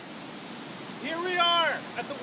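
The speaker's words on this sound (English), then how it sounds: "We're getting really close to the waterfall." Steady rushing roar of a waterfall at VC Falls, heard close by and continuous, with a person's voice talking briefly over it midway.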